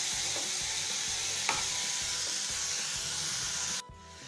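Cabbage and potato sabzi stirred and fried in a pan gives a steady close sizzle with scraping stirs and a brief clink, then the sizzle cuts off and goes quieter at the end.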